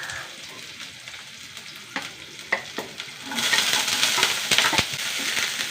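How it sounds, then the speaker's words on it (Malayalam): Chopped onion sautés in coconut oil with mustard seeds and garlic. The close, crackling sizzle swells noticeably louder halfway through, with a few sharp taps and scrapes of a spoon against the pan. "ഉള്ളി ഒന്ന് വഴണ്ട് വെക്കാം"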